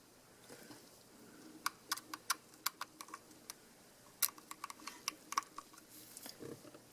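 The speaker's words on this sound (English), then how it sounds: "We'll start by removing the 2 screws that are inside the viewfinder" Small screws being worked out from inside the viewfinder compartment of a Sony A7iii camera, a scattered series of sharp, faint clicks and ticks in a quiet room, no talking.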